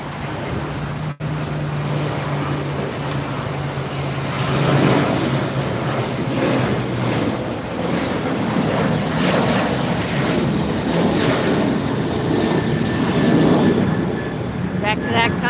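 A Condor Airlines airliner in striped beige beach livery comes in to land on the far side at LAX, a steady broadband engine roar lasting throughout with wind, under a person talking.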